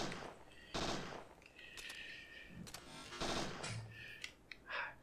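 Gunfire in the Parasite Eve 2 game, a few loud bursts of shots spaced apart with short ringing tails, under a quiet voice talking.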